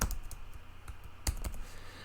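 Quick keystrokes on a computer keyboard while a Word document is edited, with the delete key used and a name typed in; a few sharp, uneven clicks sound close and clear with no talking.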